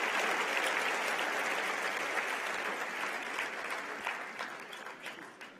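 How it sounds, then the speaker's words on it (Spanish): A church congregation applauding together, a dense sustained clapping that holds steady and then gradually thins and fades toward the end, moderately distant, without voices. "Aplauso al rey."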